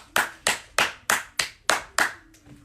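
A crowd claps in a slow, even rhythm: about eight crisp, close claps spaced roughly a third of a second apart, the last one softer, with no voices.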